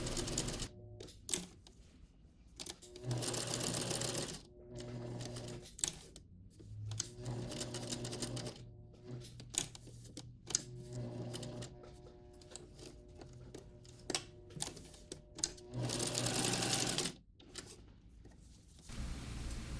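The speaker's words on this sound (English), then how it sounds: "Now we're going to sew around the hat as well." A sewing machine stitches around a snowman appliqué hat on a Christmas apron in short, repeated bursts of rapid mechanical whirring, separated by quiet pauses and light handling clicks.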